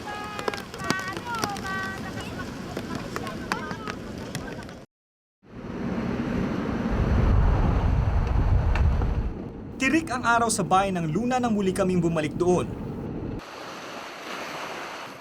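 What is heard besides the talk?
ocean waves on the beach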